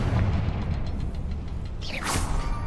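A Confringo explosion spell in Hogwarts Legacy, heard as a low rumbling boom with a whooshing burst near the end, set against a dense, noisy game backdrop.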